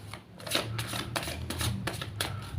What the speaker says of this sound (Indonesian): Langsung saja saya shuffle kartunya.